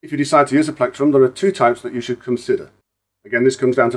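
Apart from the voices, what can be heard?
No distinct noise like a dog, phone or traffic.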